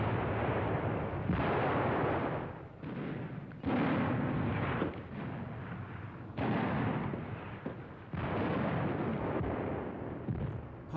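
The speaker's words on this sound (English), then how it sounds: "other troops stalk and defeat a number of T-34s using their anti-tank weapons. The effect of the Panzer Schreck is clearly seen here" German Panzerschreck anti-tank rockets fire at Soviet T-34 tanks in WWII combat, with four loud, roaring blasts spaced a few seconds apart, each trailing off into a rushing rumble.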